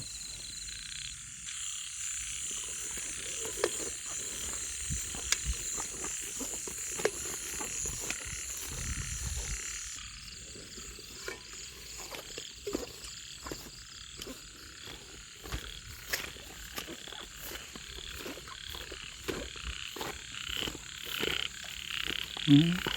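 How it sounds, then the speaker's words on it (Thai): Frogs croak repeatedly around waterlogged stumps during frog fishing at night, a dense chorus of near and distant calls over a high insect-like drone, with faint talk in the background. "ยังมีกบกินเบ็ดอยู่มันยังมีน้ำเนาะ"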